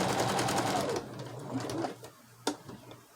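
A sewing machine stitches down jumbled quilt blocks in a steady running buzz for about a second, then stops; a few softer clicks and a sharp handling knock follow at close range, with no talking.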